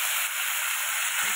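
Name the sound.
cauliflower frying in a pan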